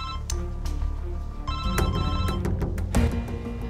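A left-behind mobile phone rings with a repeating electronic melody ringtone, bright tonal notes in a steady looping pattern over a low background hum, fairly close and without speech.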